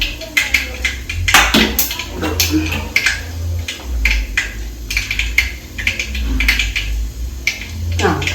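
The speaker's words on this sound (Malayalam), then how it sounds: "കടുക് പൊട്ടി തീർന്നിട്ടുണ്ട്." Mustard seeds pop and crackle in hot oil in a clay pot for a chundakaya thoran, giving a close run of sharp irregular ticks over a low background rumble.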